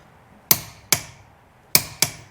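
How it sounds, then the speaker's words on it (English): Four sharp metallic clicks of a torque wrench reaching set torque, spaced unevenly, close and crisp against near silence, each decaying quickly. "you'll hear it click when it's at the right torque"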